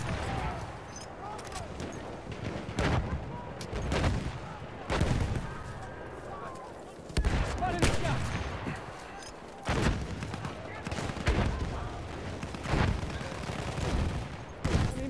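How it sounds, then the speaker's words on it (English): Video game battle with bursts of machine gun fire and heavy booming shots, loud and repeated in waves over a busy combat din, with voices calling out in the background. "Machine gun!"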